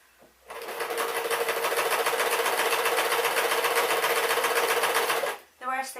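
A sewing machine runs a steady, fast stitching rhythm through pink dress fabric on a seam, loud and close for about five seconds before it stops and a voice begins.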